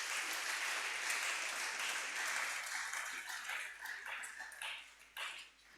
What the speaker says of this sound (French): Acclamons pour le Seigneur.